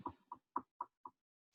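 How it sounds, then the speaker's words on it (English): Five distinct knocks on a door, evenly spaced and fairly close, each a short dull thud, followed by quiet. "There was a knock on the door."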